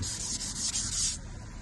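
Rapid back-and-forth sanding strokes rasp against a hard plastic headlight lens, loud and close, then stop abruptly.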